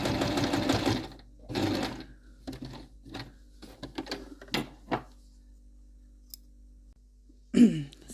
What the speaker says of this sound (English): So a long straight machine stitch about 1/2 centimetre away from the fabric edge, and just to tack that down basically.